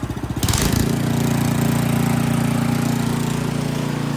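An Ariens Deluxe 28 snowblower engine catches and settles into a steady, loud idle, a continuous close-up mechanical drone with an even pulsing throb and no voices.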